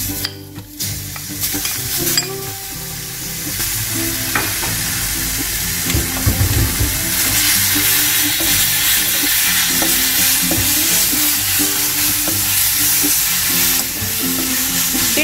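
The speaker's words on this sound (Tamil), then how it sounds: "தக்காளி வந்து நல்லா கொஞ்சம் நல்லா பிளெண்ட் ஆனோடனே நல்லா வதக்கிக்கோங்க" Tomatoes sauté for rasam in a pan over a light flame, with a loud steady sizzle and frequent close spatula stirring and scraping, no talking.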